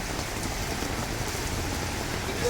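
Rain falls steadily at an outdoor market in Thailand, a dense even hiss of drops on surfaces with no pauses, close and continuous throughout.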